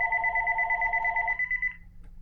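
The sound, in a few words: phone ringtone ringing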